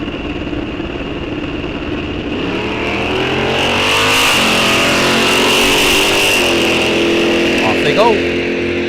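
Muscle cars, including a 1969 Chevelle, launching at a drag strip, engines idling and then rising into hard revving acceleration, with a steady high whine and a brief burst of higher noise near the end.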